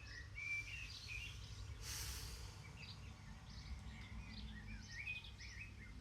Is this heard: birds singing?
yes